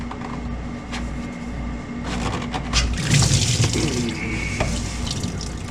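Antifreeze pours and splashes from a disconnected lower radiator hose on a Ford Ranger during a radiator replacement, a steady close gush of liquid that grows louder and more turbulent partway through, with no talking.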